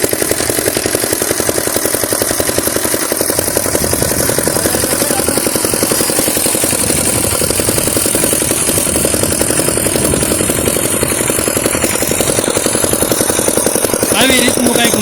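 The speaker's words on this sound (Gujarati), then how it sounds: "આવી રીતનું કંઈક મશીન છે, તમે જોઈ શકો છો. પાવર ટીલર કહેવામાં આવે છે આને." A diesel power tiller ploughs a groundnut field, its engine chugging loudly and steadily up close with a rapid rhythmic clatter that never lets up.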